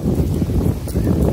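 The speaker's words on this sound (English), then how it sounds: "All right, the wind is howling." Strong wind sweeps across a wide open space outdoors after leaving a line of trees, a loud gusty rumble buffeting the microphone throughout with no voices.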